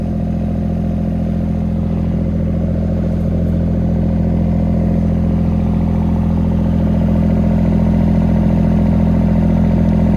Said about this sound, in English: I'll rev it a bit harder now